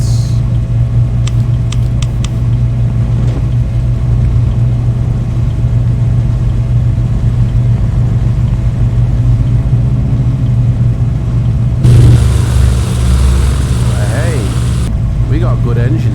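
Twin turboprop engines running in a flight simulator game, a steady low droning hum with a constant tonal band throughout, shifting in character partway as power changes, with a voice speaking over it.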